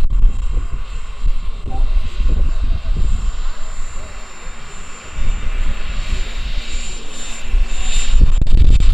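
A 1:3 scale Bell 47G model helicopter's rotor drones and chops nearby, its pitch rising and falling, with someone talking over it at times.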